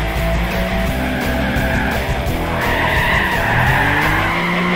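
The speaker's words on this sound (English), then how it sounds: "When drifting the cars on Gran Turismo Prologue, the techniques are actually very similar to real life as you'd expect." Sustained loud tire squeal from a car drifting in Gran Turismo, a continuous skidding screech with engine roar underneath, close and steady with no talking.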